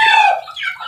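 A young chicken gives a single short, high call, close and clear, with no other sound around it.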